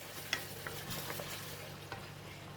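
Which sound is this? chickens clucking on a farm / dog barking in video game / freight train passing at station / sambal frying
sambal frying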